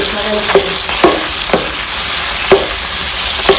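Fried tomatoes being mashed in hot oil in a pan for tomato egg rice, a steady soft sizzle broken by several distinct spatula knocks against the pan at roughly half-second to one-second intervals, close and alone.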